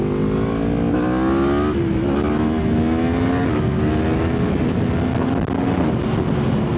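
A Yamaha MT-10 SP motorcycle accelerates hard through the gears, its loud engine note climbing in pitch, dropping at upshifts and rising again, close and continuous.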